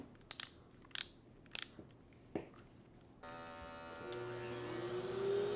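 A few sharp snips and clicks as a vacuum grooming attachment cuts dog hair, then a steady vacuum motor whine starts up and runs loudly to the end.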